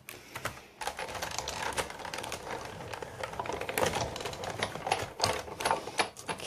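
A Big Shot die-cutting machine cranks a card through its rollers, giving a steady, close mechanical whirring and clattering with irregular clicks and knocks throughout.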